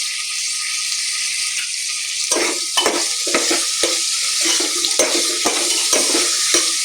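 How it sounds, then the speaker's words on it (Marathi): Onion and tomato fry in a pan for veg pulav, a steady sizzle running throughout, joined partway in by repeated stirring scrapes and knocks of a spoon against the pan, close up with no talking. "त्याला छान कांदा लालसर होऊ द्यायचा आणि टोमॅटो छान प्रकारे स्मॅश होऊ द्यायचे"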